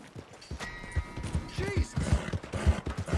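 Horse hooves clop in a steady, rhythmic beat of low thuds in Red Dead Redemption 2, heard close under someone talking over the gallop.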